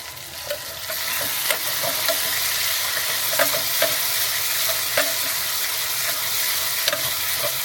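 Tempering spices with onion and tomato crackle and sizzle in hot oil, a dense, even hiss up close, broken by light taps and stirring sounds at irregular moments.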